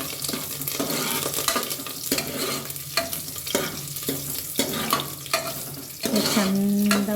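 Garlic sizzles in hot oil in a home kitchen while dal tempering (bagar) is prepared Yadgir style, giving a steady close crackle with intermittent stirring scrapes and a louder burst of frying near the end.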